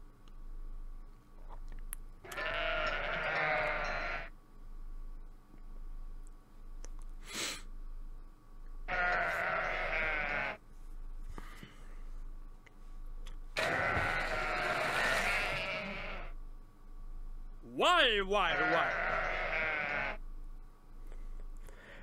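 Sheep in a math puzzle video game, bleating in several long, wavering calls separated by short pauses, close and clear over a faint steady background tone.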